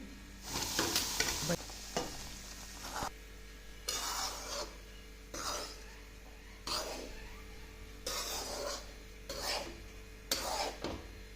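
Grated coconut roasts in hot ghee for a traditional karanji filling, heard as bursts of scraping, stirring sizzle separated by quieter pauses over a low hum.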